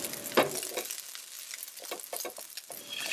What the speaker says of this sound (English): Press the rice with the back of the spatula to break it up